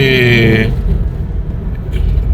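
A Mitsubishi Pajero Sport in second gear gives a loud, steady engine rumble from inside the cab, with a brief whine fading out early.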